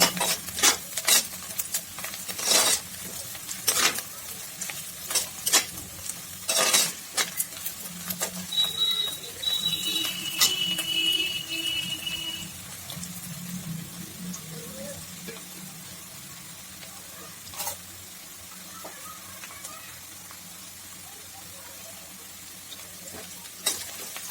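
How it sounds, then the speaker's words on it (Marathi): Chopped onion and garlic fry in a pan while a spoon stirs them, a continuous sizzle broken by repeated scraping clanks of metal on the pan, louder early and settling into a softer hiss. "कांदा लाल होत आल्याच्या नंतर आपण लसूण टाकलेला आहे"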